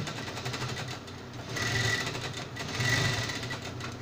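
A sewing machine runs steadily, stitching a second reinforcing seam on the body of a unicorn dress, a continuous close whir that rises slightly twice as the pace picks up.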